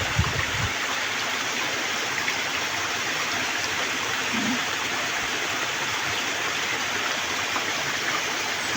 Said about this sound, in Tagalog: kusog kayong tubig guys.